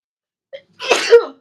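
A single sharp sneeze, preceded by a brief quick inhale, close and loud against silence.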